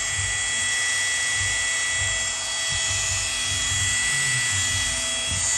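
Bosch GWS12V-30 12V brushless cordless multi-cutter with a 76 mm disc running steadily and fairly loudly, a continuous high motor whine with slight low-end pulsing and no talk.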